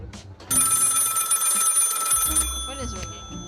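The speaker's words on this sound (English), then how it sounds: "Phone is ringing." Telephone ringing in the video game Lil Guardsman: a loud, steady electronic ring starts sharply and holds for about two seconds, then cuts off into quieter game sounds and brief talk.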